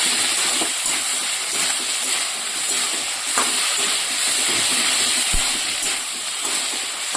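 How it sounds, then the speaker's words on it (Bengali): Washed green peas, freshly picked from the family's own field, go into a pan of sizzling, well-fried spice paste, giving a steady loud sizzle and hiss with faint stirring clinks throughout. "এবার আমি এখানে ধুয়ে রাখা মটরশুঁটিটা দিয়ে দেবো।"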